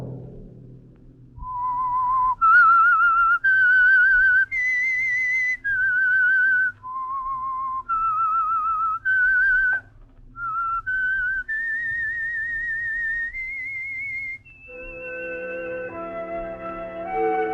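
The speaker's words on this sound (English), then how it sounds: "Let that whistle be your signal for the Signal Oil program" A clear, solo melodic whistle plays a short tune of sustained notes stepping up and down, then fades into a soft musical sting: the theme of the old-time radio mystery show The Whistler.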